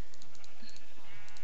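Short sheep bleats from Minecraft, modded Skyfactory 2, heard faintly a few times over a quiet game backdrop with no talking.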